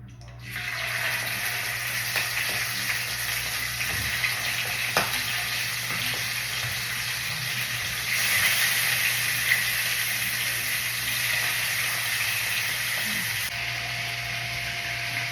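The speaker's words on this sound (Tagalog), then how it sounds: "So ato ni siyang tagsaon na ato siyang pritohon." Liver fries in cooking oil in a pan with a steady, loud sizzle that crackles and spits for the whole stretch, swelling briefly partway through, with no voices.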